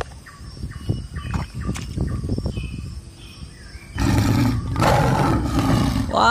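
A leopard in a children's animal-truck scene gives a loud, rough roar that swells in after a stretch of chirping and rustling background, continuing in two heavy bursts to the end.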